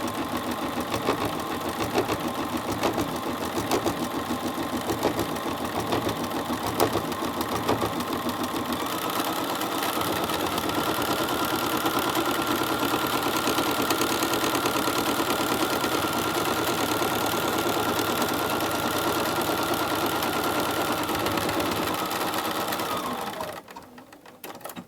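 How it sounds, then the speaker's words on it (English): An embroidery sewing machine stitches steadily as it tacks felt down to stabilizer in the hoop, its rapid needle rhythm running loud and unbroken for most of the clip before stopping abruptly near the end. "And I'm going to sew step 1 again, which will tack my felt down to my stabilizer."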